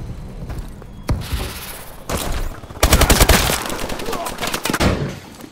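Call of Duty Advanced Warfare match with bursts of automatic gunfire and heavy booms, loud and close, rattling in clusters over a battlefield din.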